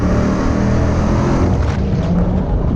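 Race car built from a scrapyard BMW M3 roars at full throttle, its engine intakes snarling loudly and continuously from close by, with no speech over it.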